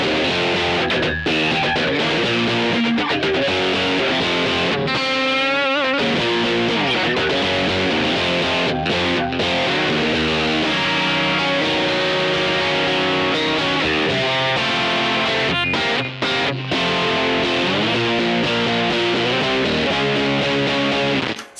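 An electric guitar played through a TC Electronic Grand Magnus, a noisy Rat-style budget distortion pedal, gives loud, continuous, heavily distorted riffing with sustained chords and note runs over about twenty seconds, with no talking.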